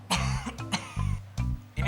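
A few harsh coughs in quick succession, close and fairly loud, with a throaty rasp between them.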